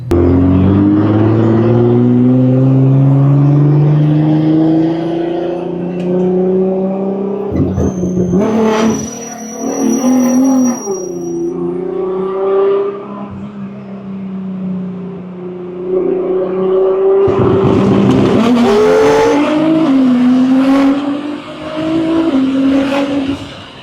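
A BMW M4 with about 660 horsepower, heard from inside during a ride along, revs hard through rising gear pulls with short shifts between them and the occasional tire squeal. It stays loud and close the whole time.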